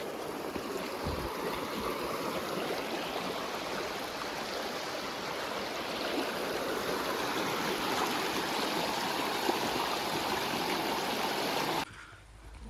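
A river stream flows steadily near a camping area in Zakopane, its continuous rushing, gurgling water filling the air evenly from start to finish with no voices.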